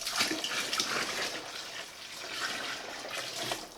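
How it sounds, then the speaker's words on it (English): Hot and cold tap water runs steadily into a fermenting bucket for a sugar-wash moonshine mash, a continuous soft splashing rush at moderate distance with no talking. "the way I'm going to do that is just simply to add hot and cold water as needed"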